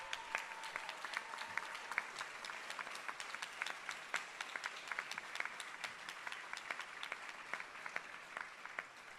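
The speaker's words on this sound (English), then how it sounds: "I want to give another round of applause for the Assange family" An audience claps steadily throughout, a dense patter of many hands at moderate distance with no cheering.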